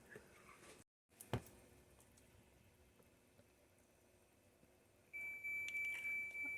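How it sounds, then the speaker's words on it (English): A quiet room hum, then a steady high electronic beep from a Hava R01 countertop dishwasher signalling its water tank is full begins near the end and holds for over a second, alone with no talking. "That beep tells you that it's full."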